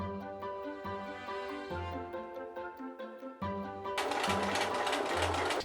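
A sewing machine stitches a plaid coat in bursts of steady whirring. The motor pauses briefly and restarts, then picks up into a louder, faster run toward the end.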